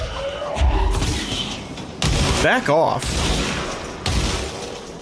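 Explosions in the video game Control burst in rapid succession, heavy booming blasts and crackling bangs landing about every two seconds, close and loud, with a voice speaking briefly between them.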